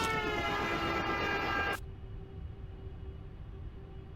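A train sound effect sounds as a stream subscription alert: a loud, horn-like tonal blast with steady rumble that cuts off sharply after under two seconds, leaving a quieter low hum.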